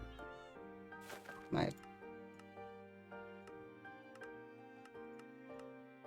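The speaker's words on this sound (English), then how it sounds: "if it's the right block, it plays a sound. So it is some guess and play. So like it meows at you." In a Hypixel Minecraft minigame, a block gives a quiet cat meow amid faint, regular ticking game tones, with a brief louder burst partway through.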